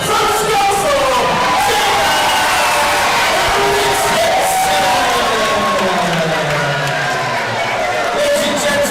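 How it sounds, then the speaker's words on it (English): A boxing match crowd roars and cheers in a dense, loud wash of shouting voices with applause mixed in, sustained without a break throughout. "please a big round of applause for Angelika and Oles"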